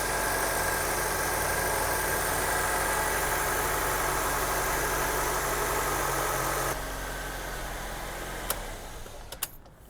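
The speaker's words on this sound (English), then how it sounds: "Seems to be running really good. Idling really smooth" A 2002 Honda CR-V engine idles smoothly after a misfire repair, giving a steady close hum with a constant low rumble, then drops to a quieter idle with a few clicks and knocks near the end.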